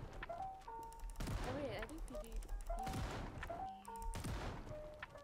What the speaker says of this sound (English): Let me get the shotgun out.